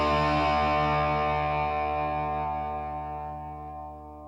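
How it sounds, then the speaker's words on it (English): Reverb-soaked electric guitars from a song ring out as a sustained, distorted chord that slowly fades away, carrying a long echoing tail with no voices. "I like the depth they had on the guitars there, the reverb."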